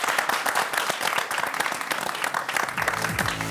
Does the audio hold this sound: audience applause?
yes